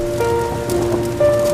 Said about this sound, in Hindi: अब बारिश के रुकने तक हम यहीं रहेंगे।